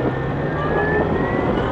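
A 2015 Zero SR electric motorcycle accelerating at about a third of the throttle, giving a steady, rising electric whine over road and wind rumble, with no talk.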